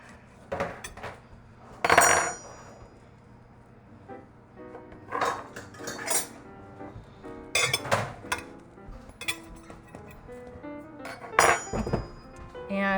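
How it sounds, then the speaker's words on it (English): A German pancake being lifted out of its pan, with scattered metallic clinks and scrapes of a utensil against the pan and dishes, some louder knocks in between, close by, with a little talk at times. "I am going to lift it right out of the pan."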